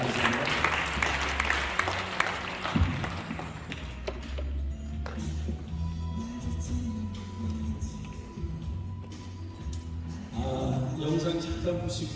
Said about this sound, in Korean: 우리 나오실 때를 박수로 맞이하겠습니다.